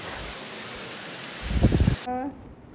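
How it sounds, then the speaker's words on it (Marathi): Rain falls steadily outdoors as a dense, hissing wash. A short burst of low, muffled voices rises near the end before the rain cuts off and a brief voice sound follows. "आम्ही घरी आलो आणि पावसाला सुरुवात झाली लगेच"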